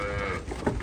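Nelore cattle in a farm corral give a single short, close moo against a noisy, rumbling outdoor background.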